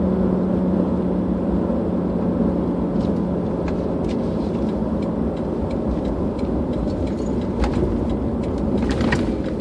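Steady low rumble of a car in motion heard from inside, with a recently replaced CV joint, constant road and engine noise and occasional faint ticks.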